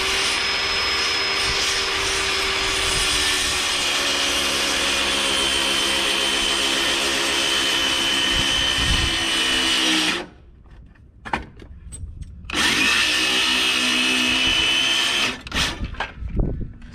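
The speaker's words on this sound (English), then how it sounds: "I may not be able to cut all the way through it with the skill saw because of the roof" A circular saw cuts through wood beneath a metal roof, whining loud and close for about ten seconds, dropping away briefly, then screaming again before spinning down at the end.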